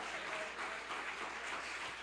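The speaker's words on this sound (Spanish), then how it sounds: "Denle un fuerte aplauso al Rey de Reyes y Señor de Señores." A church congregation claps steadily during a Spanish-language sermon, a brief, even wash of applause filling the room.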